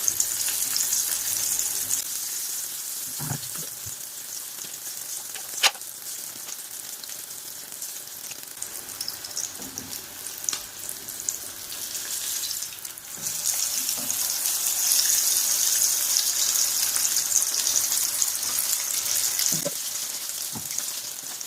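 Chicken shami kababs fry in a small frying pan, giving a steady bright hiss of sizzling oil that swells in the second half, with occasional sharp pops and clicks and no talking.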